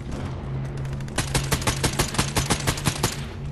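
Rapid gunfire in Fortnite aimed at a fish, a steady rhythmic burst of about a dozen evenly spaced shots, loud and close, over a constant low in-game hum.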